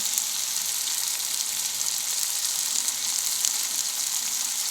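Onion and tomato frying in a pan with salt and chilli for Punjabi kadhi, a steady, close, loud sizzle that holds evenly throughout without speech.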